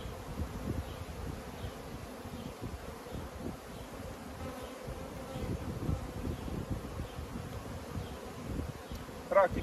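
A steady, dense buzzing of many honey bees swarming close by, continuous throughout with faint rustling underneath.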